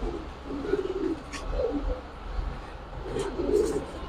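Pigeons, giribaz and coloured breeds brought home from a market, coo in low throaty bursts, several soft rolling calls close by over a steady background hum, with no voices.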